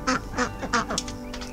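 A duckling with wry neck, a twisted-neck condition linked to vitamin deficiency, gives a quick run of several sharp, close quacks in an uneven rhythm.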